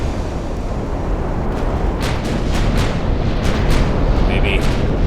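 Naval guns boom in a battleship game, Ultimate Admiral Dreadnoughts, with a dense, loud rumble of distant shell fire and explosions and a series of sharper cracking reports layered throughout.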